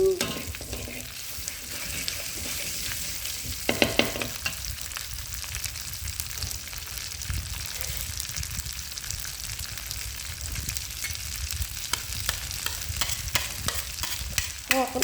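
Beans and pork are stir-fried in a pan with a steady bright sizzle. Spatula scrapes and stirring clatter recur throughout, close up, with almost no talking.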